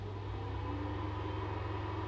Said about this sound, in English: that's the fan on my power supply kicking in.